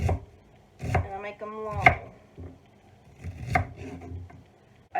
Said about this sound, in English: I cut little slivers.